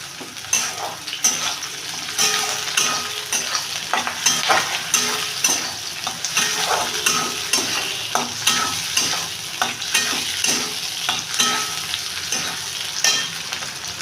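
Chopped capsicum sizzles in hot oil for a chicken keema ghugni, with a spoon scraping and stirring the pan in repeated strokes, a steady frying hiss filling the background throughout.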